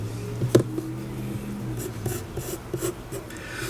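A pencil scratches and an eraser rubs on paper at close range, soft irregular strokes and scrubbing with a faint low hum underneath.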